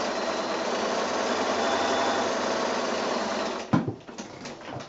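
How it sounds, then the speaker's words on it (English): A sewing machine runs a steady, fast stitch along the second seam of a woodland patch quilt block, a continuous close whirring hum that stops abruptly near the end, followed by a few soft handling knocks. "to come back and do this second line of sewing"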